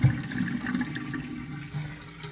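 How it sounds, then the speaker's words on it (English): Water gushing and splashing steadily from a plumbing fixture during a leak check in a home with water intrusion problems, a moderately loud, continuous flow with no talk. "Look at the water come out."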